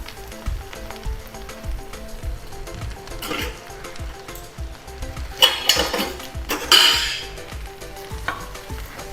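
Food frying in hot oil until crispy, a continuous close sizzle with stirring, metal utensils clinking and scraping against the pan, and a couple of louder splashy bursts as pieces are lifted to drain.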